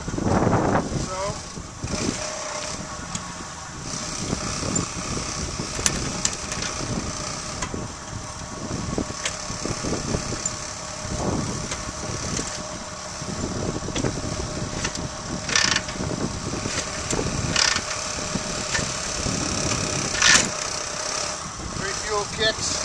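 A cold 1941 Harley Davidson EL Knucklehead motorcycle is kicked over repeatedly, giving irregular mechanical clunks, clatter and brief engine bursts, with people talking throughout.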